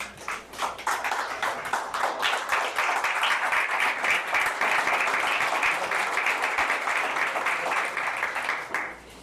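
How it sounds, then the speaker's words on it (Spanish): A church congregation applauds steadily, dense clapping sustained for several seconds at fairly loud level, with no talking over it. "Bríndale un aplauso al Señor"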